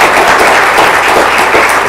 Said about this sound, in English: A huge round of applause for our panelists.